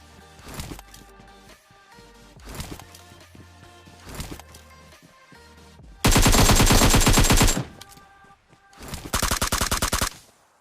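Gunfire in a battle royale video game, from a solo-versus-squad match: several short bursts of shots with quieter gaps between them, then two loud, sustained automatic volleys close by near the end.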